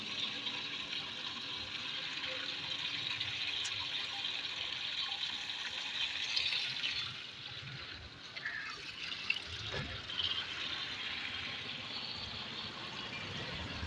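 Water gushing under pressure from a narrow pipe mouth makes a continuous rushing, trickling stream that stays fairly loud and steady, dipping briefly midway before resuming.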